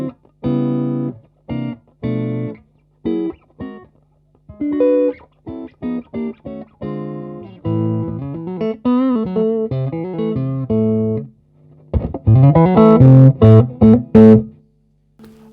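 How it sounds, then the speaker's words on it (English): Electric guitar played clean through a Fender Tweed Deluxe 5E3 clone amp with the amp turned up and the guitar volume rolled back: loud, close picked chords and single notes in bursts, then a denser run of ringing notes near the end. "You can get some really lovely clean tones."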